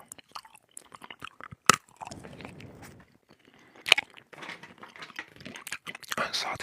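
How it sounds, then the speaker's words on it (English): Unsalted sunflower seeds crack and crunch between the teeth up close, sharp snaps scattered irregularly among softer chewing, crinkles and mouth sounds in a quiet room. "Unsalted sunflower seeds."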